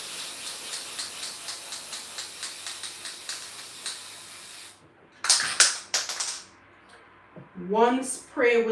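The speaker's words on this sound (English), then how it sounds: "I'm going to spray this baby gold." Steady rhythmic clicking, then several short hissing bursts of edible gold aerosol spray onto a birthday cake, followed by a voice speaking briefly.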